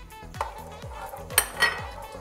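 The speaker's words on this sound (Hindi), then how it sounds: "अब हम इसको अच्छी तरह मिक्स करेंगे" A spoon stirs a sauce of milk and other ingredients in a pan over the heat for a chicken steak recipe, giving repeated scraping clinks against the metal in a steady rhythm, close and fairly quiet, with no talking.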